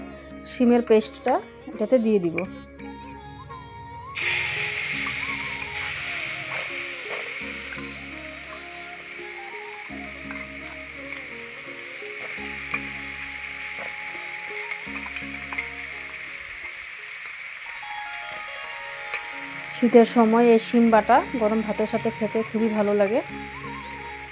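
Mashed beans stirred in hot oil with black cumin and dried chilli in a pan, a steady hiss of sizzling with scraping stir sounds, under a voice and background music.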